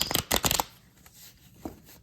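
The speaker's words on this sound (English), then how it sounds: "another thing I really like about it is super easy to shuffle" A deck of playing-card-size Mary Hanson-Roberts tarot cards is riffled in quick crisp bursts, a few rapid fluttering shuffles up front followed by a softer single card snap.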